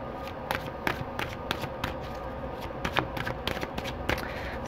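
Tarot cards being shuffled by hand, a soft papery riffle and flutter in quick irregular bursts, close and fairly quiet with no talking.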